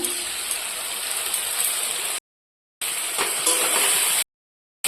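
Meat fries in a pan with cumin and chili paste, giving a steady bright sizzle broken by two short silent gaps.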